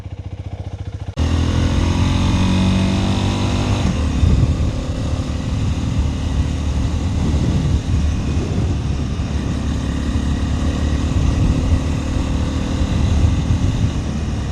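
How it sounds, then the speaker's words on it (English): A Honda CL250 retro scrambler fitted with E-Clutch pulls away on a countryside road, its single-cylinder engine rising from idle into a loud, close, steady drone as it accelerates and shifts, with wind noise mixed in and no talk. "The CL250 is a part of Honda's modern retro scrambler line"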